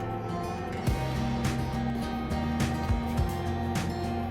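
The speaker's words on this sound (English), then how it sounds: "You'll have to forgive the noise you hear, it's my dehydrator." A food dehydrator runs close by, a steady, droning fan hum with a faint tonal whine throughout, with occasional soft clicks over it.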